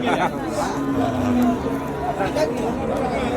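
At the Uthangarai cattle market, cattle give a low moo amid a hubbub of chatter from the crowd, and someone talks close by over the background din.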